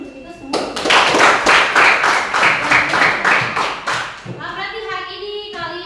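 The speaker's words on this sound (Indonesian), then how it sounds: "Tepuk tangan dulu untuk kita semua" Junior high students in a classroom in Biak Barat, Indonesia, clap in a quick, even rhythm of loud, close claps for a few seconds, then stop as children's voices chatter.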